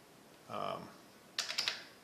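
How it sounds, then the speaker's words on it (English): Single-finger typing on a computer keyboard, a few sharp separate key taps near the end, preceded by a brief bit of speech. "since I'm typing with one finger, I won't type everything"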